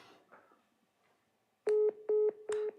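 Telephone dialing tones while calling someone: three loud, steady beeps in a regular rhythm, preceded by faint background murmur and no clear speech.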